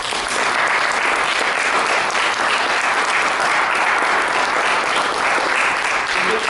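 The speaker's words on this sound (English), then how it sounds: "And realise this round of applause is for you." Loud, continuous applause closes a client therapy session, steady dense clapping filling the whole stretch without pause.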